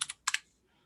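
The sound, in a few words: typing a password on a computer keyboard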